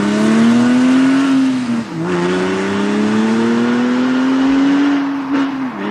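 A Porsche 997 exhaust fitted with Scart Ultima Récital silencers drones loudly and close up, its engine note rising steadily, dipping sharply on a shift, then climbing again and easing off near the end.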